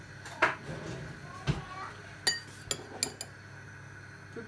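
A metal spoon scooping spices out of a container for goat meat pepper soup makes a handful of scattered clinks and taps against the vessel, close and fairly quiet, separated by short pauses.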